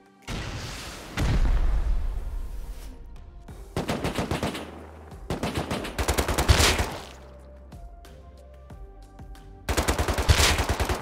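Bursts of automatic gunfire crack loudly in Rust as raiders shoot at rooftop turrets, coming in several separated volleys of rapid shots with pauses of quieter ringing between them.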